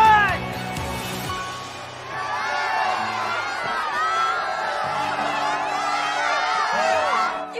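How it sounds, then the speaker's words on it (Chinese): A crowd at a competition final cheering and shouting for the winning team, a loud sustained roar of voices with whoops rising after a short opening burst, lasting to the end. "让我们用最热烈的掌声恭喜谁今天战队"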